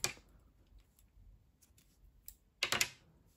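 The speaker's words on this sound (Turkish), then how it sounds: "ilmek aldım ipliği kesiyorum" Scissors snip through crochet yarn in a quiet room, with one faint cut near the start and a sharper double snip toward the end, close and alone without talk.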